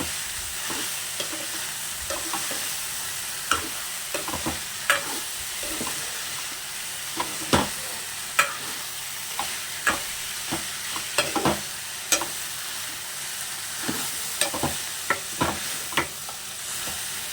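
Continuous sizzling of okra frying in a pan with tempering spices, with repeated scraping and clinking of a spatula as it is stirred; no voices.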